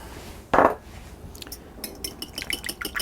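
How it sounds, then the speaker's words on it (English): A whisk or fork beating eggs lightly in a bowl for a smoked salmon quiche, starting with a single sharp knock and then a run of quick rhythmic clinks against the bowl, close and fairly loud. "beat these eggs up only lightly"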